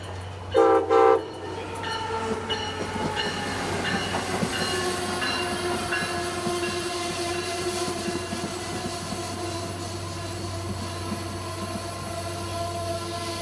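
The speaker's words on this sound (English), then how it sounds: "A southbound Amtrak train, Northeast Regional 183, comes into the station with another good horn show" Southbound Amtrak Northeast Regional passenger train pulling into a station, two short horn blasts at the start followed by a steady rolling rumble and clattering of cars passing close by.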